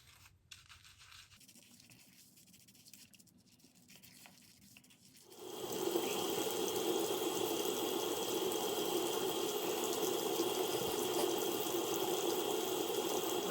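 Sink tap turned on while washing the face, quiet faint handling sounds first, then a sudden steady rush of running water that holds loud and close until the end.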